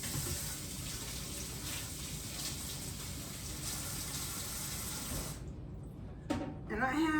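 Tap water runs steadily over leek roots as they are rinsed, a broad constant splashing that stops abruptly near the end, followed by a few clinks and faint handling sounds.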